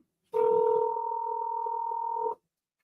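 An automated phone menu line gives a steady two-tone telephone signal, a loud continuous electronic tone lasting about two seconds, alone and close, ending abruptly.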